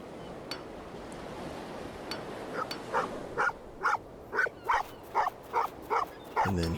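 A dog barks in the horror video game An English Haunting, a steady series of about ten short, regular barks growing louder toward the end over a low ambient background.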